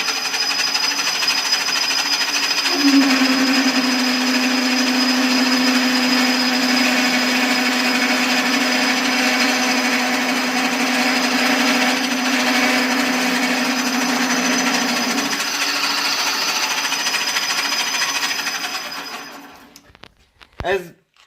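A lathe spins steadily as it turns down a metal bar, a loud continuous machine whine with a steady cutting tone through the middle, before winding down and stopping at the end.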